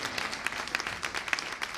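Church congregation clapping in a burst of applause, a steady dense patter of many hands at moderate distance, without speech.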